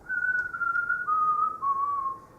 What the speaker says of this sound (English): If you try to whistle this tune